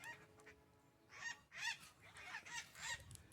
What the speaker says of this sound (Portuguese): Olha só o periquito.